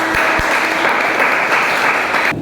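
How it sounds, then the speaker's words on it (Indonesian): Classroom applause for students during a teacher's practical teaching assessment: a dense, steady wash of clapping from a small group, close and fairly loud, running unbroken before cutting off abruptly at the end. "Tepuk tangan dulu untuk kalian semua"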